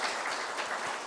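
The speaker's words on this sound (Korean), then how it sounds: "우리 한번 환영한다고 박수로 환영합니다" A short burst of clapping from a church congregation welcoming newlyweds joining a Zoom worship service, a dense patter of hands at moderate volume with no talking.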